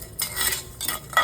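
Coriander, cumin and other spices being roasted in a pan, stirred with a metal spatula in three or four quick scraping strokes, close up and alone.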